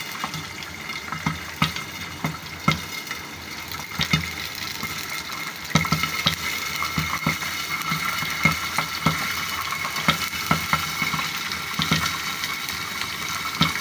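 Corn kernels heat in oil in a pan, giving a continuous sizzling hiss scattered with sharp pops and clicks throughout, near and moderately loud, with no voices.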